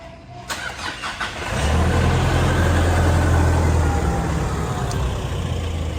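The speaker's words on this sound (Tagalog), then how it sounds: "Ang gagawin naming getaway vehicle ngayon ay ang kotse ni Josh" A car engine cranks with a few short bursts, then catches and settles into a steady, loud idle rumble that continues close by to the end.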